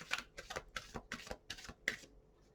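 Tarot cards being shuffled in several quick riffling bursts, about six in a row, close and fairly quiet, with no talking.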